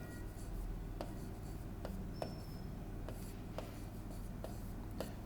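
Chalk or marker strokes on a board during a Hindi-language maths lecture on number systems, a series of short scratchy taps and rubs spread across a few seconds, faint over steady room hum with no talk.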